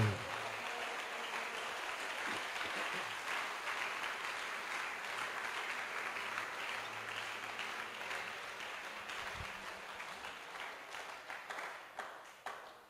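Steady applause from a church congregation, broad and continuous, holding at moderate level for several seconds before thinning toward the end.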